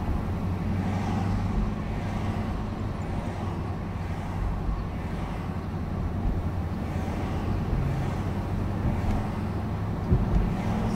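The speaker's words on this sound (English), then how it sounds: "that's the truck in back of me revving its engine, wanting to go faster" A truck with a modified muffler idles and revs behind, a steady low engine rumble mixed with wind noise, with a slightly louder surge near the end.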